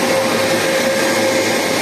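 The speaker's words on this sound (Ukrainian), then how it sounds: "З сторони просто вентилятор." A cooling fan on a server data storage module runs at a steady, close whirr with a faint constant tone, unchanging for the whole stretch.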